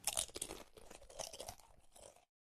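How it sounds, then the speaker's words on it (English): Crunchy corn nuts being chewed up close, a quick run of dry, brittle crunches and crackles that stops abruptly after about two seconds. "like when you're chewing on corn nuts."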